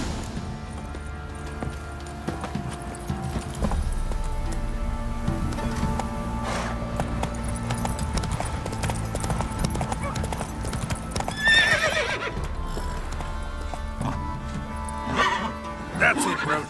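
Horse hooves clip-clopping steadily in The Witcher video game, the horse Roach ridden along a path, with an occasional whinny and game music and ambience underneath.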